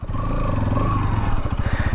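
A Bajaj Pulsar NS200 BS6 motorcycle's exhaust revs up close, a steady throaty drone climbing in pitch, then breaking into a choppy, pulsing burble near the end.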